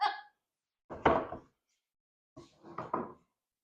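A heavy wooden log cabin door is flipped over on a work surface: a few dull knocks and thuds in two separate clusters with silence between, close by.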